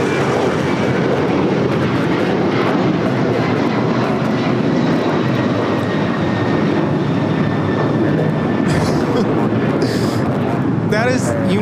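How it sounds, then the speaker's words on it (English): A United Airlines Boeing 737-900ER jet takes off at LAX, its steady engine roar filling the air loudly with wind noise, while people talk faintly over it. "That is United Airlines 1635 taking off to Washington Dulles on the 737-900ER"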